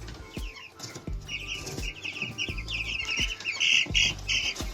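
Chickens clucking and squawking nearby, with irregular thumps and wing flaps amid scattered bird calls.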